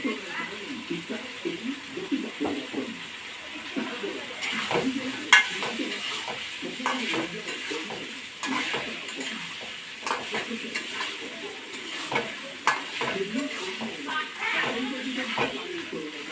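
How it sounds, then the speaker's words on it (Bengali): Desi chicken curry masala being stirred and fried in a pan, village style: steady sizzling with repeated scraping and clatter of a spoon against the pan, close and continuous, with no talk over it. "সাত 8 মিনিট নেড়ে চেড়ে নেব"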